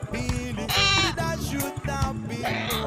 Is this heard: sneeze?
no